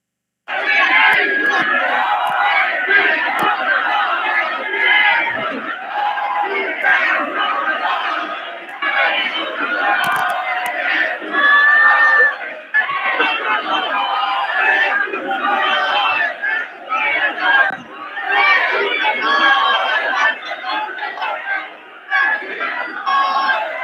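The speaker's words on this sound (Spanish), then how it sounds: "Así fue como recibieron ahora al presidente López Obrador con estos gritos" A large crowd at a rally for President López Obrador in Mexico shouts and chants continuously and loudly, a dense roar of many voices yelling together with no pause throughout.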